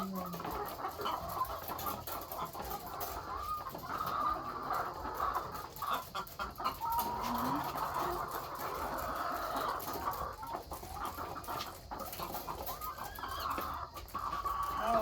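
Chickens cluck steadily throughout an egg harvest at a poultry farm, a dense layered flock chorus close by and continuous, with scattered bird calls and occasional rustling over the top.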